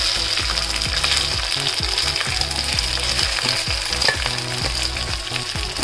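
Cumin seeds roasting in hot oil in a pan for jeera rice, a steady loud sizzle and crackle with rhythmic scraping strokes of a spoon stirring, no voices.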